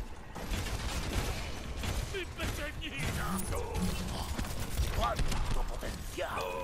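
Scattered gunfire cracks in the video game Overwatch, amid busy game effects and clatter, with no clear voice over the top.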